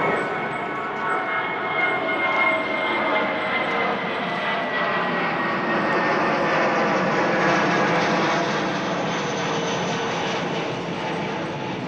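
Steady, loud drone of a passenger airliner's engines in flight heard from the cabin, a constant broadband roar with a faint tonal hum that stays unchanged for the whole stretch, with no talking.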